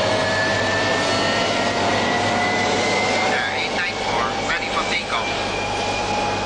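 A jet airliner of Garuda, lined up for takeoff at Halim airport, roars with a steady, loud whine and broadband rush that fills the whole clip, while radio talk sits faintly underneath.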